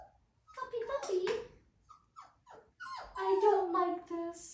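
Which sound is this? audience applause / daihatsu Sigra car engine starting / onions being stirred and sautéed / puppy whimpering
puppy whimpering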